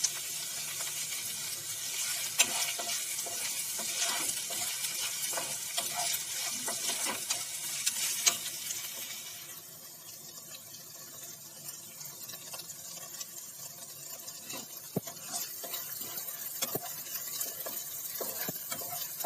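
Taro root (arbi) fries and sizzles steadily in a pan while being stirred, with scraping spoon strokes and a continuous hiss that settles slightly softer partway through.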